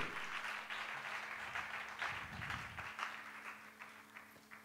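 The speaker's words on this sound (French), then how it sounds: "on acclame très fort" A faint audience claps in a hall, the applause rolling continuously in uneven waves and tapering slightly toward the end.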